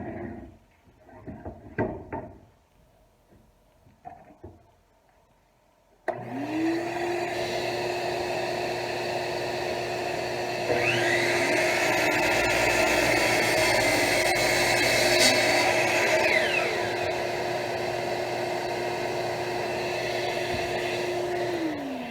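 Miter saw spinning up and cutting through a board while squaring it in a woodshop, a loud steady whine that rises and holds for over ten seconds, then winds down, after some quiet handling noises.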